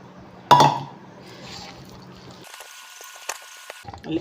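Leftover water goes into stiff wheat-flour dough in a kneading bowl: a sharp clink of the vessel, then a quiet trickling pour, with soft handling noise.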